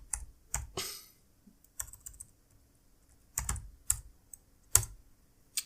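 Someone types quickly on a computer keyboard, with several short bursts of close, crisp key clatter separated by pauses and no voices.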